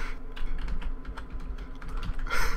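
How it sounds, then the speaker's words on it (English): Rapid clicks of someone typing on a computer keyboard, uneven bursts of keystrokes at close range with no talking. "I'm just typing, I have a bad feeling about this, into the chat."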